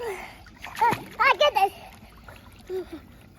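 A young child splashes while swimming in cold water. Light splashes mix with excited child vocalizations and adult talk, close and lively, with short bursts of voice over a soft watery background.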